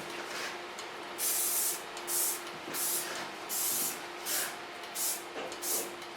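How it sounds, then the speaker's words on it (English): Lanza hairspray sprayed onto long layered hair in a salon, with about seven short hissing bursts at a steady rhythm and soft pauses between them, close but fairly quiet, with no speech. "Take a brush through hairspray. Product of Lanza."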